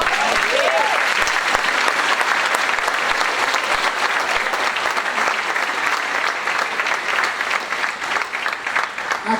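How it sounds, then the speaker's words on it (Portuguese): A church congregation breaks into sustained applause during a worship service, a thick, continuous roar of many hands clapping with occasional louder sharp claps, steady for several seconds before tapering slightly, with faint voices mixed in. "Aplauda o Senhor."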